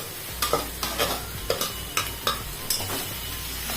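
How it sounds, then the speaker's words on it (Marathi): Potato slices sizzle in a pan while a spatula stirs them, giving a run of sharp, regular scraping knocks over a continuous close frying hiss, with no voices. "आता आपण हे बटाट्याचे काप टाकून द्यायचे"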